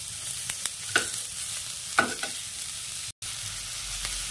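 Garlic, ginger and chillies sautéing in a pan, a low steady sizzle with a few scraping stirs of a spatula, close and fairly quiet, with no voices.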